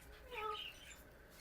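A surprise pet kitten mewing softly in a home, a few faint, short high-pitched meows rising over quiet room noise.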